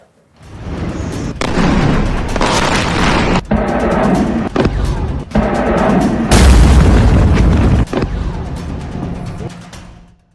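Bombs exploding over Iranian cities near the Strait of Hormuz come as loud, heavy booming roars in several abrupt, cut-together stretches, each a sustained rumbling blast.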